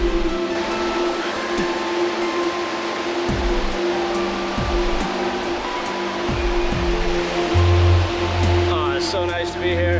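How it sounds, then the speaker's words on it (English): A waterfall in the Fiji jungle gives a steady, loud rushing roar that fills the whole stretch, with low thumps and a person talking over it. "we're getting closer to the waterfall."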